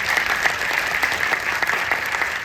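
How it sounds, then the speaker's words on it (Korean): Audience in a cinema Q&A session for the film Mona Lisa and the Blood Moon applauding actor Jeon Jong-seo, a steady, dense wash of many hands clapping throughout, moderately loud and without talk. "전종석 배우님께 박수 한번"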